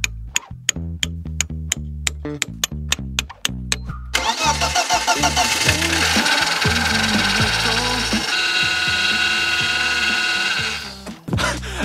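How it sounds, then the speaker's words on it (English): On a crash-damaged BMW E36, a metal ratchet extension taps the clogged fuel injectors about a dozen times in sharp close clicks, then the engine cranks and catches, running roughly and loud before cutting out. "I'm gonna tap the injectors lightly with this extension, like this, and this usually frees them up a little bit"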